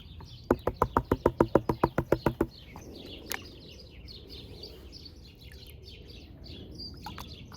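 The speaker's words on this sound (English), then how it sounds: "Some beautiful bird action going on right now." Birds chirp outdoors as a rapid series of about fifteen loud, evenly spaced calls, then continue as softer, scattered twittering against steady background ambience.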